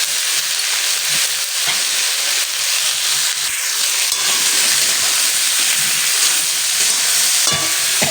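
Turmeric powder frying with spinach and eggplant in a pan for a Bengali winter spinach dish, a loud, continuous hiss of sizzling oil with occasional faint stirring knocks, no voices.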